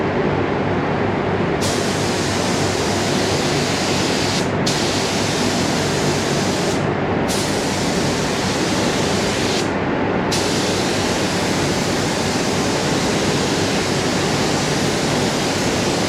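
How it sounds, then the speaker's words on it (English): Spray gun laying a wet coat of paint across a Nissan Cefiro engine bay in a workshop, a loud steady hiss running continuously with a few brief dips in its upper edge, no talking. "just try and get a nice wet coat"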